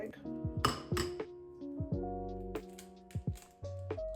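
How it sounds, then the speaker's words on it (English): An egg is cracked into a mixing bowl for banana oat carrot bars: a few sharp, close taps and clinks against the bowl, with soft handling sounds and a voice talking in between. "Add your egg."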